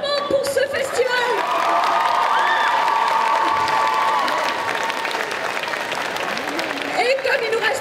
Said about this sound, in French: plein d'applaudissements pour tout le monde pour ce festival